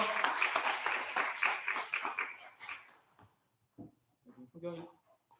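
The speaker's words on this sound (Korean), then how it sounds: "박수하겠습니다." A church congregation claps together for a few seconds in a fairly large room during a Sunday service, the applause fading out before a brief voice and a few stray sounds.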